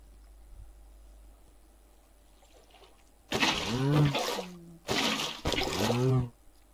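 Quiet background, then water pours in two heavy bursts in Minecraft, a long splashing gush followed by a shorter one after a brief pause.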